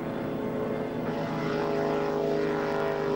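A helicopter flies over a water ski event at the 1991 World Water Ski Championships in Darwin, Australia, giving a steady, continuous droning engine and rotor hum with no voices.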